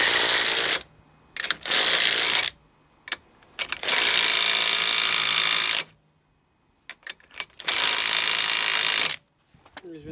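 A ratchet wrench tightens a driveshaft bolt on a 1.4 HDi Peugeot or Citroën, loud close bursts of rapid clicking in several long runs separated by brief pauses and a few single clicks.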